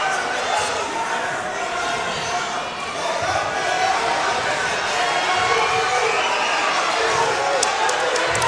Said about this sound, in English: Crowd really getting into this as we hit the end of period number 1